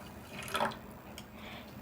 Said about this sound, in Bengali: এবার ওই বাটির এক বাটি মেপে জল দিয়ে দেবো